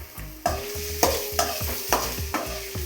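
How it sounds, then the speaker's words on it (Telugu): Boiled beetroot stirred in a frying pan with curry leaves, a spoon scraping and knocking against the pan in a quick rhythm of five or six strokes over a soft sizzle. "ఉడకబెట్టుకున్న బీట్రూట్ వేసుకొని ఒకసారి కలుపుకుందాం."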